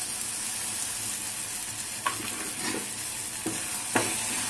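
Blended tomato hits onions sautéing in a pan for a cashew pakkoda gravy, a steady close sizzle and fry with occasional scraping stirs and clinks of the spoon, and no voices.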